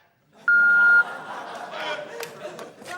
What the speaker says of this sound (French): vous pouvez me laisser un message après le bip sonore